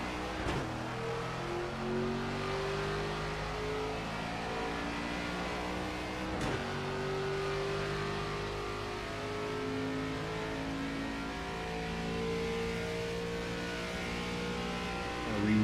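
A race car engine drones steadily at Talladega in a racing video game, a sustained loud multi-tone roar with a shifting pitch and a couple of sharp transient clicks, alone without talk.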